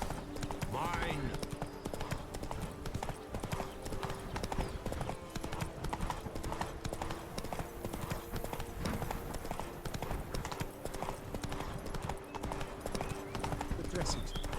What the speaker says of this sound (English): Whoa there, Roach. Giddy up